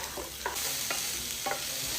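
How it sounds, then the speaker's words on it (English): Garlic frying in a pan, a steady close sizzle with a few stirring scrapes and taps. "Now we're gonna fry off the garlic until it's fragrant."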